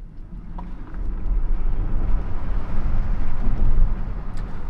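A VW ID.4 GTX electric SUV accelerates hard in sport mode on a mountain road, giving a steady low rumble of road and wind noise that swells and holds throughout, with no voices.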